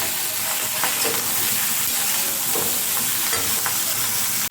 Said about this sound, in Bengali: তো ঝিঙেটাকে বেশ আমি একটু ভাজা ভাজা হতে দেব।